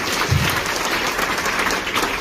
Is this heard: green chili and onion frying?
no